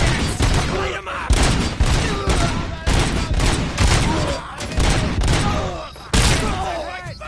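Rapid bursts of gunfire in the video game RoboCop: Rogue City crackle and boom in dense volleys that pause briefly and then start again.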